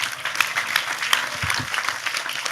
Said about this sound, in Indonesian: Sekali lagi tepuk tangan lebih keras untuk Tejo.